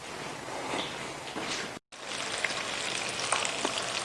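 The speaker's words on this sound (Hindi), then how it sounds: "देखिए स्लो फ्लेम पर हमने इसको अच्छी तरह से फ्राई कर लिया है" Chicken pieces frying in oil over a low flame for Saudi-style Al Baik fried chicken, a soft steady crackling sizzle with a brief cut of silence midway.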